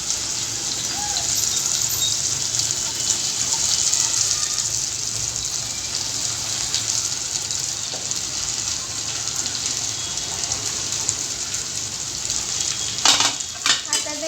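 Cut okra (bhindi) frying in a pan gives a steady, fairly loud crackling sizzle throughout, with a few faint clinks of a spatula or utensil near the end.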